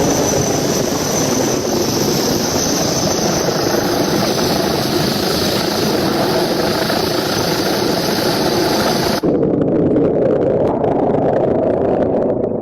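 A rescue helicopter hovering over flooded ground, a loud, steady rotor and turbine drone with a high engine whine that drops away near the end while the rotor rumble continues, no talk.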